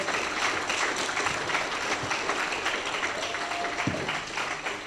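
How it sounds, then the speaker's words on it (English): An audience at a community workshop applauds panelists with a steady, moderately loud patter of clapping that holds for the whole stretch. "So let's give our panelists a round of applause."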